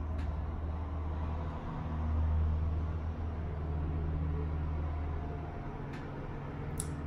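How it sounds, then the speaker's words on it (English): A big, loud truck passes outside an apartment, a steady low rumble that swells in the middle and stays heavy throughout, with no talking over it. "That's a big truck."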